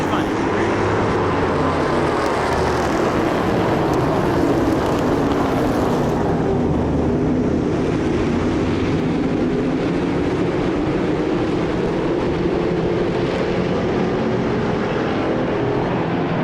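Race cars roar off the start of the second LMS race at Autodrome Montmagny, a broad engine drone swelling and fading as the field passes, with a commentator talking over it.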